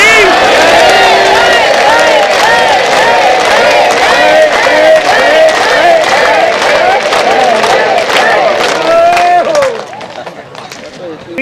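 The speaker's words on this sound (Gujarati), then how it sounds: "હાથ હલાવતો હલાવતો અને તાળી પાડતા પાડતા બોલો દોલતરામજી મહારાજ" A satsang crowd in Junagadh chants praise in unison while clapping hands, loud and close, with rhythmic claps under the voices until they drop away near the end.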